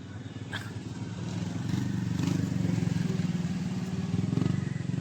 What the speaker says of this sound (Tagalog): Sarap magmotor, no?